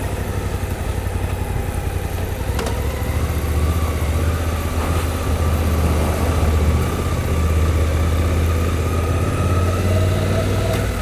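A Suzuki motorcycle engine idles close by at a steady low rumble, holding an even, unbroken throb for about eleven seconds with no voices.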